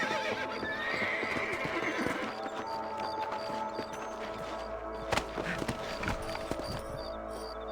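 Horses whinny and their hooves clip-clop in Red Dead Redemption on PC, with repeated neighs over steady hoofbeats against a quiet in-game ambience and a faint musical drone.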